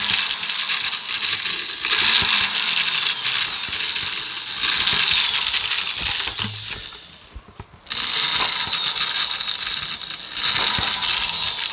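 A small drill bit boring holes around a bee feeder lid, loud close whirring bursts of a few seconds each separated by brief pauses, with a rattling grind as the bit cuts through.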